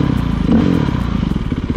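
Suzuki DRZ motorcycle riding through Nevada desert country, a close, loud, steady engine drone with rhythmic pulsing throughout.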